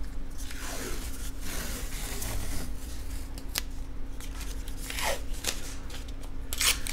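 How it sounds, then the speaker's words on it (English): Painter's tape being pulled, crinkled and pressed onto a 2013 iMac screen, close crackling and tearing scrapes with a few sharp rips over a steady background hum, no talking. "we're going to tape the screen up"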